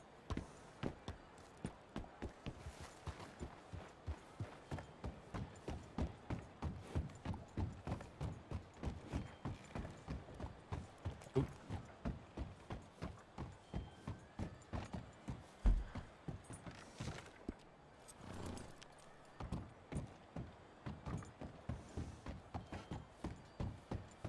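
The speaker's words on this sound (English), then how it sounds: "Some horses down here." Horse hooves clip-clop on the ground in the video game Red Dead Redemption 2, a steady, rapid rhythmic trot that carries on throughout and is heard faintly and evenly in the background.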